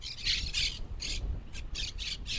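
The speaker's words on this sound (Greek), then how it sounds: "Αυτά εδώ είναι πράσινα παπαγαλάκια. Παρέα πηγαίνουν αυτά, όλα μαζί." A flock of green parakeets squawks overhead in a windy outdoor spot, with repeated harsh, rapid bursts of calls clustering in rhythmic groups, fairly close and loud over steady wind rumble.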